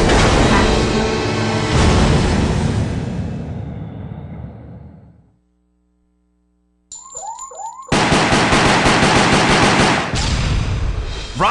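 Rapid bursts of loud automatic gunfire blast at rockets in the video game Resident Evil Umbrella Chronicles, fading out, a short pause, then a whooshing sweep and beeping alarm before heavy firing resumes.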